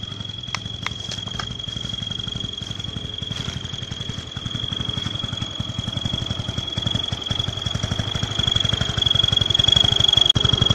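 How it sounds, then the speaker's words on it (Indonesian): A modified motorcycle engine at a repair workshop runs with a low, rapid pulsing idle and a faint high whine, holding steady and growing slightly louder near the end. "Jadi mesin motor Anda bisa unik suaranya"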